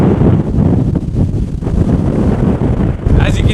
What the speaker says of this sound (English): As you can tell, it is super windy out here.